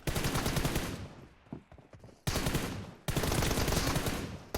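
Rapid automatic gunfire in the mobile battle-royale game PUBG Mobile, loud and dense, firing in sustained bursts with two short pauses between volleys.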